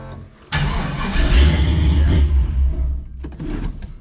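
A car with an LS engine swap cranks briefly, then catches and fires up into a rough, loud idle that settles and dips near the end, with no talking.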